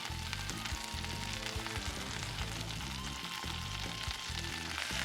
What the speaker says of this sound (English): Add in the patty and smash.